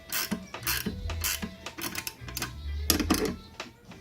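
A 1/2 inch wrench tightening a flaring crimp tool on a battery cable, giving close, repeated ratcheting clicks and metallic scrapes in uneven bursts, fairly quiet.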